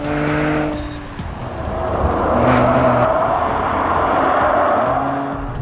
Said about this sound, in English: This is 100 miles an hour right-hander, and the car just feels a little bit more stable.